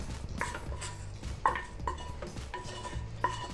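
A spoon scrapes caramelized onion out of a cooking pan into a blender in a home kitchen, making several short, close scraping strokes with light metallic clinks, fairly quiet and with no talk.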